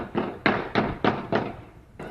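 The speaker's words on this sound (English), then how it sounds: "his dash cam picked up what sounds like at least 10 gunshots." Gunshots picked up by a car dash cam in Albany Park, Chicago, in early afternoon: about five muffled, sharp bangs in quick, fairly even succession, then one more after a short pause, heard from some distance.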